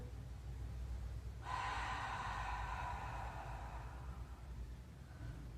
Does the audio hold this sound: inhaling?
yes